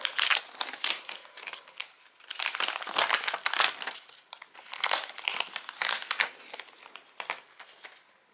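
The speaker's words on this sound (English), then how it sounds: "Let's see if we can get the plastic covering off." Plastic protective film peeled off a Redmi Note 9 Pro phone, close crinkling and crackling in irregular bursts, loud and alone without talk.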